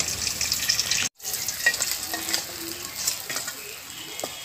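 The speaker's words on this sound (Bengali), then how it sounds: "আর মাছগুলোকে অবশ্যই কিন্তু ফাঁকা তেলে ভাজতে হবে।" Pieces of rohu and catla fish frying in plain hot oil, giving a steady, loud, close sizzle with small crackles and one brief dropout.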